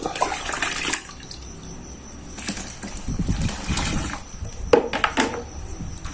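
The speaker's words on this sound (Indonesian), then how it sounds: "Oke, sekarang kita masukkan air yang ketiga." Water poured from a container into a large batch of homemade dishwashing soap mixture, splashing in bursts with short pauses between, close and moderately loud, no talking.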